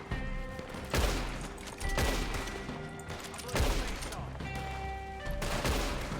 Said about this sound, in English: this bolt-action rifle,